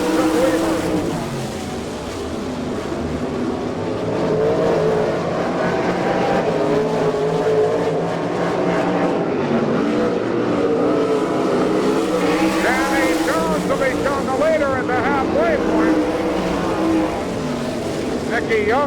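Sprint cars of the All Star Circuit of Champions racing at Abbottstown, PA, engines droning and revving steadily throughout as the pack battles for the lead, with a commentator talking over the continuous roar.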